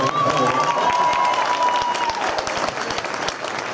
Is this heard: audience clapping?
yes